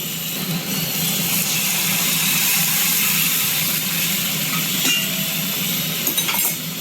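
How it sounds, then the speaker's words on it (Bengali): Hot water poured into a pan of frying vegetables, for a home-style curry on a gas stove, makes a loud, steady hissing sizzle that continues without a break, with a faint clink near the end. "এখন এতে আমরা গরম জলটা ঢেলে দেব।"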